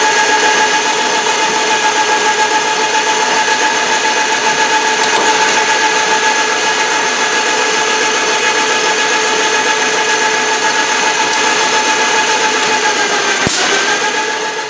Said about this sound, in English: I have the spotting drill set to a depth that provides the chamfer